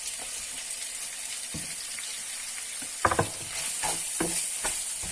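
Leeks and tomato stir-frying in a hot pan, a constant close sizzle broken by a few clattering scrapes of a spatula stirring the vegetables, no voices.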